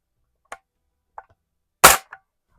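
A 1992 Crosman 760 air rifle fires with one loud, sharp report, bracketed by a few quieter clicks of handling before and after, in an otherwise quiet setting.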